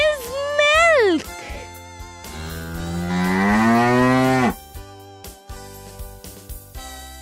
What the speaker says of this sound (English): Cow gives milk.